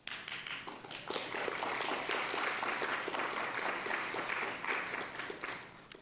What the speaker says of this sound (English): From now on, please hold your applause until the end of the forum